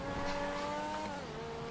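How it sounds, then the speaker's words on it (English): A car engine in GTA Online revs up through its exhaust, a loud close droning note that holds steady and then dips slightly in pitch toward the end, with no talking. "Also, that exhaust sounds fucking amazing."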